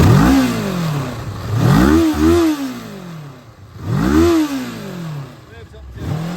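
A 2013 Kawasaki ER-6F motorcycle engine revs repeatedly from idle, three distinct throttle blips rising and falling in pitch, close and loud with a clattery mechanical edge between pulls.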